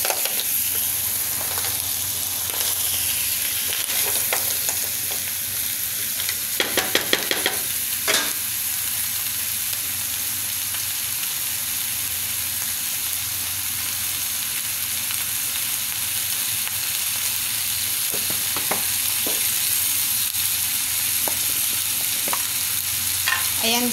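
Seafood rice with mussels being stirred in a frying pan: a steady sizzle runs throughout, broken by a few louder scraping and clattering bursts of the utensil against the pan, with no talking.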